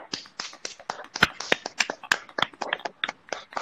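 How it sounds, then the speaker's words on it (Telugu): A single person claps by hand in quick, fairly even sharp claps, about a dozen or more in a row. The claps are close and distinct, with silence between them. "నేను క్లాప్ కొట్టాను సార్"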